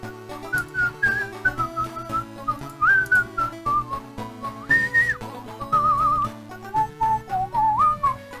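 A whistled melody rides atop the video game music of Star Control II, bright wavering phrases weaving steadily over a layered synth backing throughout.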